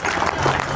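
Loud, dense applause from a crowd at an outdoor award ceremony during a Rawat Nach festival in Bilaspur, a steady close wash of clapping with no pause.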